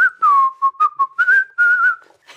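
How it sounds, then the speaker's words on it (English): A person whistles a clear, simple tune up close, notes gliding and stepping in short phrases with brief breaths between them. "your whistling sounds great!"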